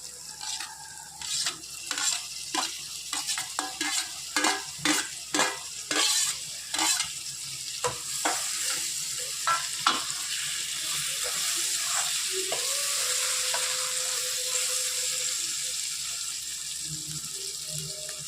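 Chopped tomato sizzles in a pan for egg curry while a spoon scrapes and stirs in repeated strokes, followed by a steady frying hiss.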